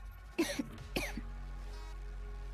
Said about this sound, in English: she keeps coughing